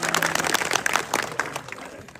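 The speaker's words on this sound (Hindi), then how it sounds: "इसके लिए एक बार और मेरी तरफ से आप लोग ताली बजा" Applause from an audience at a Saini community village gathering in Hasanpur, a dense patter of many hands clapping steadily for a couple of seconds, fairly close and fading slightly toward the end.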